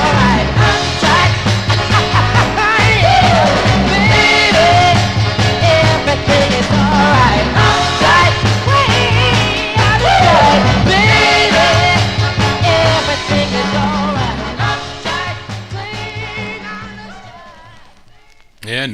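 A 1960s soul dance record playing from vinyl, a dense full-band mix with vocals, horns and driving rhythm that fades toward the end.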